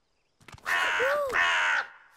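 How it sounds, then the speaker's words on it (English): A cartoon alien creature's squawking call, heard alone and fairly loud as two drawn-out, harsh crow-like caws with a brief dip between them. "It's an alien flutter squawk!"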